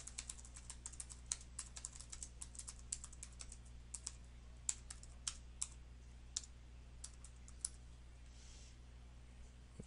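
Steady, faint typing on a computer keyboard entering a short description, with a run of quick, evenly spaced key clicks close by and no speech.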